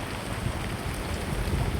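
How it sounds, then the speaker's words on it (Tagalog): Steady, dense downpour of heavy rain with a constant hiss and low rumble, no voices, loud and unbroken throughout, at the sea while setting out to fish. "grabe ang ulan ngayon"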